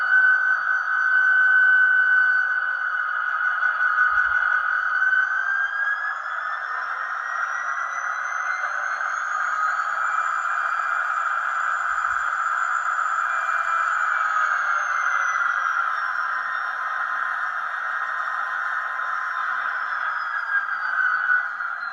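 An HO scale ScaleTrains SD40-2 model locomotive in Conrail livery throttles up, its onboard sound unit giving a steady, loud electronic diesel drone with a rising tone partway through, heard alone and continuous.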